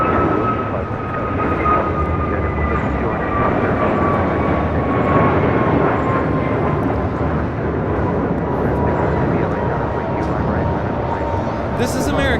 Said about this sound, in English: This is American Airlines 1711, taking off to Washington National on an A321neo